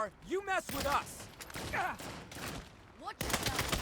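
Gunfire from a gun in Saints Row: a handful of sharp shots spaced across a few seconds, mixed with swooping electronic whines and mechanical clatter, all moderately quiet.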